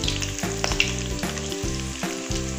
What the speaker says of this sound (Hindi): तो हम थोड़े थोड़े फ्राई करते जाएंगे,